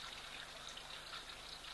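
Water trickles softly and steadily into a waterhole, a faint continuous dribble at some distance with no voices present.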